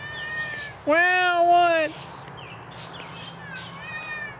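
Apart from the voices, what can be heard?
cat meowing, neighbor's tomcat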